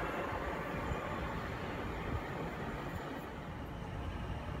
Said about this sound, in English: Heathrow Express, class 332, now the passing through platform number 1.